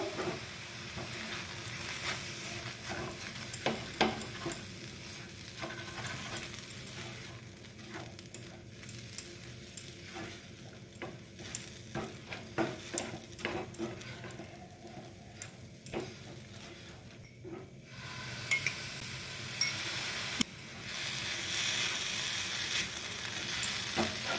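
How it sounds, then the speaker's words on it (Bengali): Sweet pulao rice stirred in a pan as milk is added two spoonfuls at a time, giving a steady soft sizzle with scraping and clicking spoon strokes throughout, close and moderately loud, with no talking. "বারবার এভাবে দু চামচ করে দুধ দেবো আর নাড়বো"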